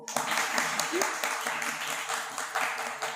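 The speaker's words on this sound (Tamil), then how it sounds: "அவங்களுக்கு நம்மளோட பாராட்டுகளை தெரிவிப்போம்" Applause for state-level top-scoring students at a school association day celebration: a crowd claps steadily and densely throughout, moderately loud and close, with a voice talking over it.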